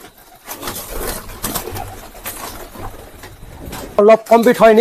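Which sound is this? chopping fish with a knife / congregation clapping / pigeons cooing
pigeons cooing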